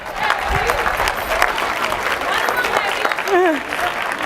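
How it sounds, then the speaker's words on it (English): A group applauds a team member at a leadership session, steady clapping over about four seconds with cheers and whoops rising through it and voices calling out near the end. "Give her a round of applause"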